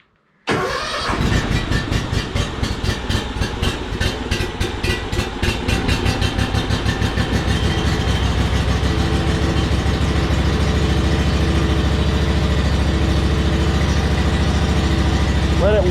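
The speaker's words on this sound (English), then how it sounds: "Open up the choke. Should fire right up." Kubota zero-turn mower engine cranks over briefly, catches and settles into a loud, steady idle with a rapid mechanical pulse, close up indoors.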